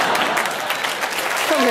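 Comedy club crowd applauding a stand-up comedian, a brief burst of steady clapping with a voice surfacing at the end.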